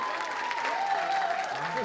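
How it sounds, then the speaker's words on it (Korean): Brief applause from an audience at a sports awards ceremony, steady clapping running under a speaking voice for under two seconds. "이 다시 한번 박수 한번 보내주시겠습니까?"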